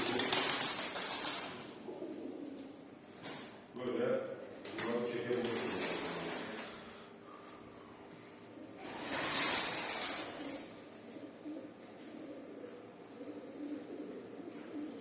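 Pigeons or doves kept in a loft coo in soft, low, repeated bursts close by, mixed in with a man's conversational speech and some light tapping.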